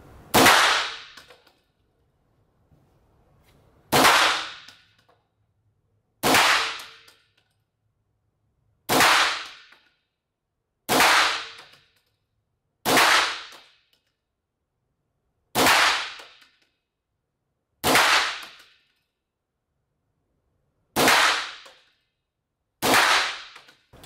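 Gunshots from a rifle at a shooting range, about ten loud, sharp cracks, each with a short decaying tail, fired singly at a slow, fairly even pace of roughly two to three seconds apart.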